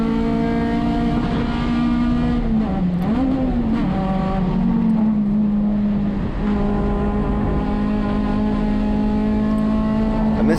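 Onboard a USTCC touring race car at Sonoma Raceway, the engine drones loud and continuous, with its pitch sagging briefly around a gear change before settling back into a steady high-revving howl.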